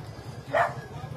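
A single short dog bark rings out at mid distance during a live broadcast of a national police and drug agency operation, sitting briefly above a steady low rumble of background noise.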